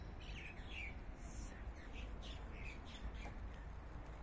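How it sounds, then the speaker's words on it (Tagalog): Birds call outdoors on a quiet sunny morning walk around ten o'clock, scattered squawks and chirps in short bursts over a steady background hush, moderately distant and faint. "Huni na lang ng mga ibon ang naririnig."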